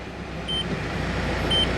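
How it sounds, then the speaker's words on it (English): Two short, high electronic warning beeps from a Citroën Berlingo, set off by the engaged handbrake on a dyno, sound a second apart over the steady hum of the running engine. "It's beeping because I've got the handbrake on"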